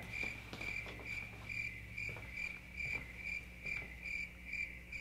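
Crickets chirp in a steady, evenly spaced rhythm of bright pulses, fairly close and continuous over a quiet low background hum, with no voices.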